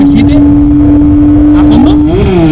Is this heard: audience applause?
no